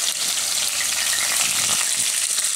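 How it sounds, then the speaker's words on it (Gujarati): Green chillies, onion and curry leaves fry in hot oil for a spinach and gram flour curry, giving a steady, close, dense sizzle and crackle that carries on unbroken with no talk. "નાખશું ને લીલા મરચાં નાખશું ને ડુંગળી, લીમડો,"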